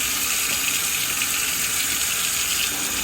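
Steady rush of running water rinsing bleach off winemaking equipment at a sink, a continuous close gush with no pauses.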